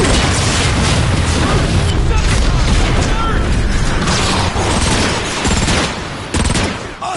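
Anti-air cannon shells blowing up in a video game, a loud sustained run of booming blasts and clattering mechanical bursts with heavy low rumble throughout.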